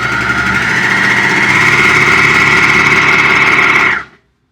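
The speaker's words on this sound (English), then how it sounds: "you just serge the edges as close to the edge as possible so that you keep as much as the fabric" A serger overlocks the raw edges of head-wrap fabric, giving a loud, close, steady whirring hum that runs for about four seconds and then stops abruptly.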